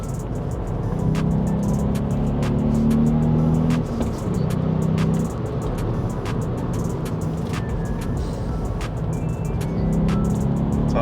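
A VW Up GTI drives on a rural road with its engine and exhaust droning steadily, rising with acceleration, while rain or debris ticks against the car.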